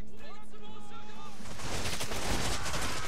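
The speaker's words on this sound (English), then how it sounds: "Wow, in one volley they lost 13 men" A musket volley in Shogun 2: Total War comes in as a dense, crackling burst of gunfire. It follows a few seconds of voice and fills the rest of the clip.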